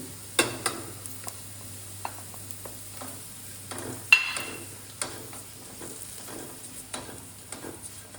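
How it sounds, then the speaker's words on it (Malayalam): Chilli, turmeric and coriander powders with salt and curry leaves sauté in a pan for ginger pickle, a faint sizzle beneath repeated close clicks and scrapes of a spoon stirring. "നന്നായിട്ട് വഴറ്റുക."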